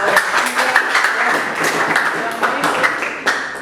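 Classroom applause for a student group in a Catholic religious education class, an uneven patter of claps from a small group of students, with individual sharp claps standing out now and then over the steady clapping.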